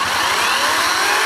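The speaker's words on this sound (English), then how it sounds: "I also have a new electric chainsaw to try out" A 16-inch 40-volt battery electric chainsaw running steadily at full speed close by, a loud continuous high whine with no pauses and no talk.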